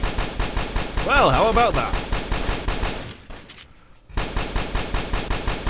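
An Uzi fires in the video game CubeZ in fast, loud automatic bursts that stop for about a second midway and then resume, while someone speaks briefly over the shooting.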